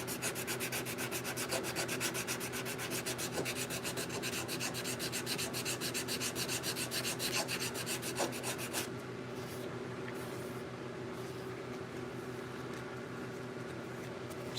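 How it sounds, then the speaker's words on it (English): Steady, continuous abrasive rasp of sanding out grind lines on a knife blade in a workshop, close and even with a rapid rhythmic scrub, easing to a softer hiss near the end. "Still trying to get some of the grind lines out on this side."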